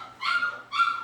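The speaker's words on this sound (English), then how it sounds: "you can hear the puppies back there." Puppies bark and whimper in the background at a grooming session, two short yelping calls about half a second apart, fairly clear and with no talk over them.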